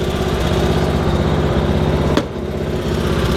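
An MTD lawn tractor engine idles loud and close with a steady metallic rattling chug, a sharp click briefly interrupting the drone.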